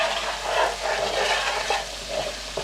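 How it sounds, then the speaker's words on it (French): A caramelising sauce with onions for meatballs sizzles steadily in the pan while being stirred continuously, a close, even frying hiss with soft scraping swells and no voices. "faut pas s'arrêter de mélanger, sinon la sauce elle va accrocher"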